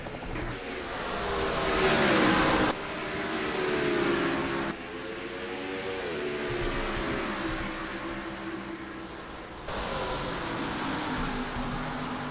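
Race cars in NASCAR Racing 2003 pull away at the start of the Central Florida Grand Prix, a loud, sustained engine drone rising and shifting in pitch.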